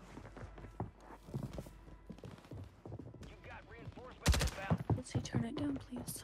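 Gunfire in a Call of Duty match, a few scattered shots early, then a loud close burst of rapid shots near the end with clattering mechanical sounds, heard beneath players talking.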